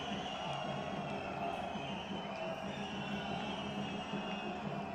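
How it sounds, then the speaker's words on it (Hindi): A large crowd at a Prime Minister's development rally in Bilaspur, Himachal Pradesh keeps up steady, dense applause with a broad cheering roar, sustained and even throughout. "आइए हृदय तल से तालियों के साथ आभार करें"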